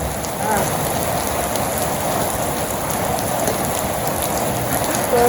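Steady rain falls in a Bangladeshi village, a dense, even patter on surfaces that holds constant for several seconds with no pauses.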